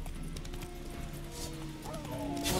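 A horse gallops with steady clip-clop hoofbeats in The Witcher 3, harried by bandits and wolves clinging to its legs, under game noise with a brief neigh-like tone near the end.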